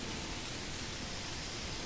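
Rain falling in the city-builder game Manor Lords, a steady, even wash of rain noise with no breaks, faint and alone with no voices.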